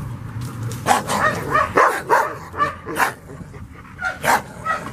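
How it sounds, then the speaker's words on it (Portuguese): Several dogs bark in a loose, irregular series of sharp woofs and yips during a reactivity training session, moderately close and fairly loud, with no talk over them. "uma situação de outros cães latindo"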